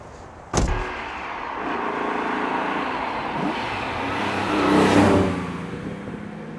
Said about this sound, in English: It's a TVR Cerbera, and it's the Speed 6, which is the new TVR-built straight six-cylinder engine.